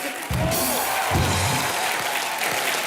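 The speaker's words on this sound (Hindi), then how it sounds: "एक बार मिस्टर अभिषेक बच्चन के लिए जोरदार तालियां।" A studio audience on a Hindi TV comedy show breaks into strong applause, a dense wash of clapping that runs for a few seconds under a voice.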